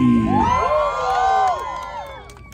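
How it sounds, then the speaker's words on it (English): A fair crowd cheers on racing pigs, with a burst of high-pitched shouts and whoops from children and adults that rises loudly, then thins out and fades. "let's check out our cheering section one time. Let's hear it for number 1 piggy"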